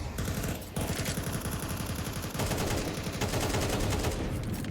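Rapid, loud bursts of automatic gunfire in a first-person shooter game, with shots crackling in a dense, continuous stream and only a brief pause partway through.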